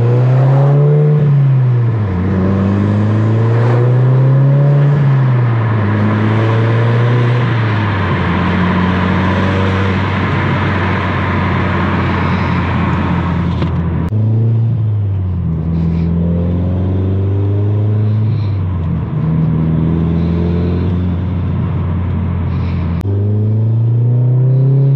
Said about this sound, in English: I don't know how well that GoPro is picking up the induction noise off of that intake and turbo inlet